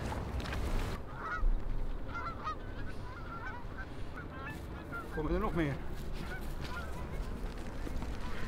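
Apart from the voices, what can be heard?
geese honking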